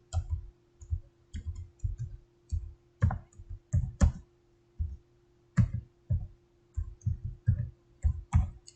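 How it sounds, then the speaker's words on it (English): Computer keyboard typing in a spreadsheet program, close and crisp, with irregular bursts of keystrokes and short pauses between words, alone with a faint background hum. "I'll type best student."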